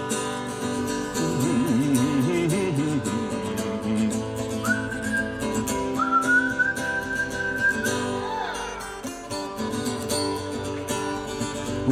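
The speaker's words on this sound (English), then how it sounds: "I'd whistle if I could." Melodic human whistling in a live song at an open mic, a wavering tune in the middle of the clip that rises into long held high notes over acoustic guitar and singing backing, clear and close.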